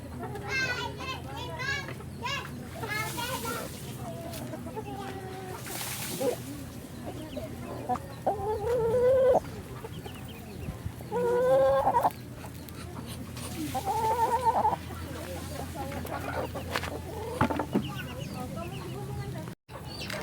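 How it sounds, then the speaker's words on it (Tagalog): Backyard farm chickens cluck and squawk at feeding time in Cebu, with several overlapping calls across a noisy outdoor scene while children play and people talk throughout. "Dito na naman tayo magpakain sa ating mga manok."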